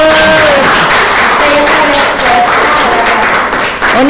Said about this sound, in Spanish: Un aplauso para la terapeuta